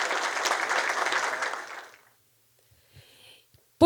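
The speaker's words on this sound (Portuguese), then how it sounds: "Uma salva de palmas." Audience applause at a panel session on collective labour law, a dense burst of clapping for about two seconds that fades out into near silence, followed by a few faint shuffles.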